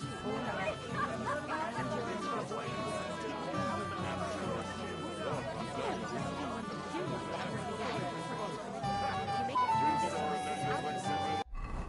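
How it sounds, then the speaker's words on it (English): A mangy old dog barks in the medieval video game Kingdom Come Deliverance 2, with repeated yapping barks and whimpers under ongoing character dialogue and ambient game music. "What's that mangy old dog doing here?"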